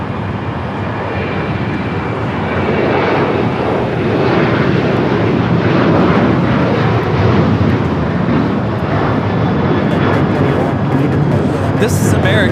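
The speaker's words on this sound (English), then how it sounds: "A23 taking off to Puerto Vallarta on the 737-800" An American Airlines Boeing 737-800 takes off from LAX, bound for Puerto Vallarta, with a loud, steady jet roar that swells slightly and holds for the whole stretch while faint voices murmur underneath.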